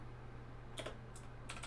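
A few quiet, sparse key clicks on a computer keyboard while a terminal command is entered, in short bursts over a steady low hum.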